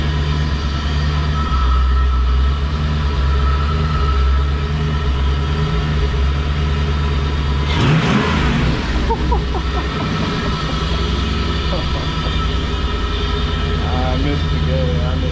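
A V8-swapped Infiniti G35 idles with a steady, loud rumble, then gets a sharp rev around the middle before settling back to idle, close to the engine.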